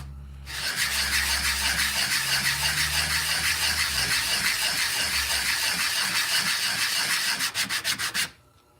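Sandpaper is rubbed back and forth across a surface to square it while making a knife, producing a continuous, loud, gritty rasp with a steady stroke rhythm. It ends in a few quick short strokes before stopping.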